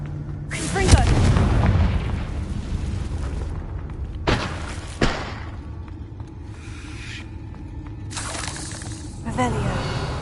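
Hogwarts Legacy Confringo spell blasts: booming fiery explosions burst out in several loud waves, each followed by crackling debris and rumbling decay, with game effects layered around them.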